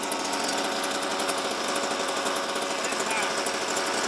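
A Suzuki RM125 dirt bike engine runs with the choke partly on, giving a steady, harsh, rapid buzzing idle that stays close and loud for the whole stretch.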